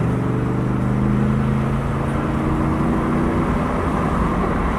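A 10-year-abandoned Lexus LS400 accelerates on a back road, its engine drone rising steadily under constant road and cabin noise, heard from inside the car.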